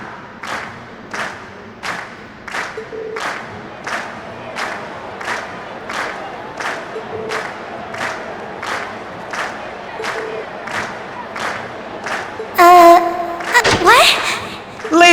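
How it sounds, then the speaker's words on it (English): A concert crowd in the video game The Legend of Heroes: Trails of Cold Steel cheers and claps in a steady, rhythmic pulse, each beat sharp and evenly spaced, with a louder, busier surge near the end. "we've heard your cheers loud and clear"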